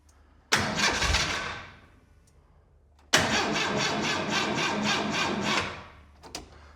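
A 1923 Ford Model T engine with a 12-volt starter cranks in two bursts, first a short grinding spin, then a longer rhythmic churning that pulses steadily before cutting off, loud and close, without catching.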